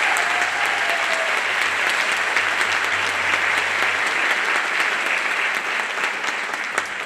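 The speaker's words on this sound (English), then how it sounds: "Please give them a round of applause" Steady, dense applause from a school concert audience after a spring middle school band performance, sustained and even throughout without speech.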